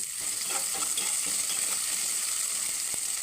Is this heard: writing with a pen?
no